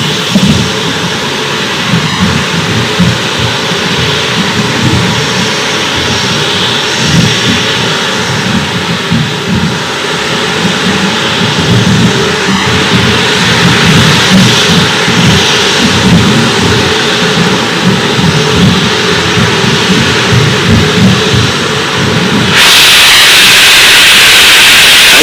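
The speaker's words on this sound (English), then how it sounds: "just enjoy the launch. During which the Vulcan engines are set on, and then the launcher takes off. Go Ariane 5." Roaring Vulcan engines of an Ariane 5 rocket during the JUICE mission launch, a loud continuous broadband rumble sustained throughout, shifting in tone near the end.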